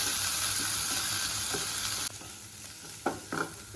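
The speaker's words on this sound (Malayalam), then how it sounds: "10 അല്ലി ചുവന്നുള്ളി ചതച്ചത് അതും കൂടി ആഡ് ചെയ്യും. ഇത് നന്നായിട്ടൊന്ന് ഇളക്കി കൊടുക്കാം." Crushed shallots sautéing in a pan give a steady, close sizzle that drops suddenly to a quieter hiss, followed by a few distinct spoon-stirring scrapes.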